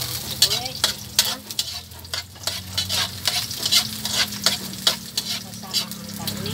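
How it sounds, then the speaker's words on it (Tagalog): Garlic and onion sauté in hot oil in a pan for a vegetable guisado, giving a steady close sizzle with repeated stirring scrapes throughout. "Sabay na po natin ang bawang at sibuyas, isa."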